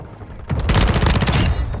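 Sustained automatic gunfire from the video game Modern Warfare 2 played in third person, a dense loud burst of rapid shots lasting about a second after a quieter lead-in.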